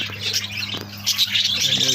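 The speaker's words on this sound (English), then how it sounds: "Everywhere's birds." Baby birds squeak and chirp near their nest, rapid high peeps layered over a low steady hum, close and continuous for a couple of seconds.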